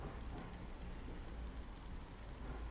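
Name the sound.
thunder and rain sound sample layered on a beat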